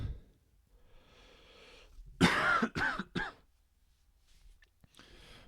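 A single harsh cough burst followed by two shorter coughs, close and fairly loud, with quiet room noise around them.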